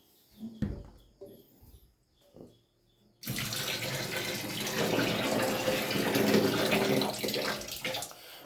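Warm water runs steadily from a tap to fill a bath for a baby boy. A few soft knocks and clinks come first, then a loud, continuous gushing rush that lasts to the end.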